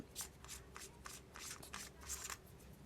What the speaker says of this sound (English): Unscrew the back.